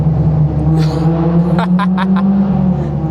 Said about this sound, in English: Are y'all hearing that S2000, dude? It's distracting me so much.